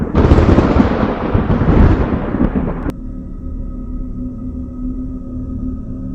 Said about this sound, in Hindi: तभी अचानक बिजली कड़कता है